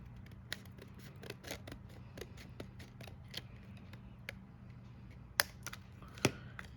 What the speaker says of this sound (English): Now if it doesn't line up, just cut